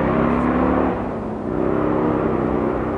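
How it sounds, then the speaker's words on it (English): A motorcycle passing by outside gives a steady, fairly loud engine drone that dips briefly and then swells again, heard alone with no talking. "Motorcycle thing going on there."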